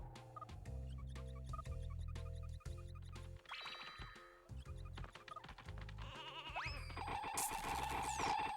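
Sheep bleating in the video game Space Station Silicon Valley, short bleats mixed into loud, busy game music and bright effect sounds, with the music dominating.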